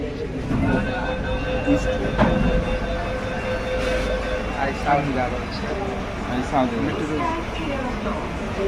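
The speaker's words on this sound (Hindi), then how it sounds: "मेट्रो" Rumbling Kolkata metro train running along the track with rhythmic clatter and squealing tones, voices murmuring in the carriage throughout.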